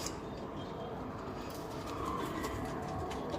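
Pigeons coo softly in a loft where free-flying birds are kept, a steady low murmur of several birds under constant background noise, with no clear speech.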